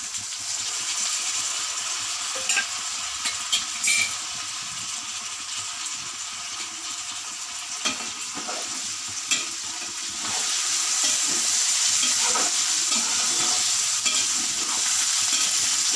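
Tomatoes and stuffed eggplant fry in a pan for an eggplant masala curry, a steady sizzle with occasional stirring clinks that grows louder partway through, with no talk.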